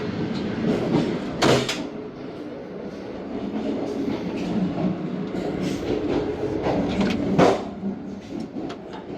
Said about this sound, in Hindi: सादिकाबाद रेलवे स्टेशन पास हो रही है ट्रेन